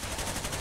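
Rapid gunfire in the tactical shooter game Rainbow Six Vegas, a brief, quiet burst of quick repeated shots.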